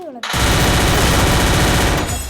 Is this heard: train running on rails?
no